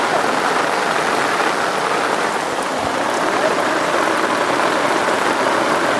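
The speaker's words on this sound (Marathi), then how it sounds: "पाऊस पण जोरात यायला लागलाय." Heavy rain pours down by a river in the Konkan countryside during the first monsoon rains, a dense, even hiss that stays loud and unbroken throughout.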